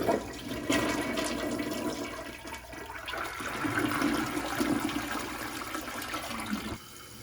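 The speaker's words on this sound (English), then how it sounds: "And for a full flush, we're going to simulate with a couple feet of toilet paper." A Kohler toilet does a full flush with a couple feet of toilet paper in the bowl. Water rushes loud and close for several seconds, then cuts off sharply near the end and a quieter refill hiss follows.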